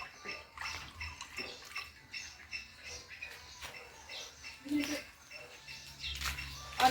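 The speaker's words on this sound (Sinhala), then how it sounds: "හැම ගහකටම මේ වතුර ටික නම් දාන්න" Homemade liquid fertilizer is poured from a container onto home-garden plants, including an orange tree, in uneven splashing bursts. Birds chirp faintly in the background.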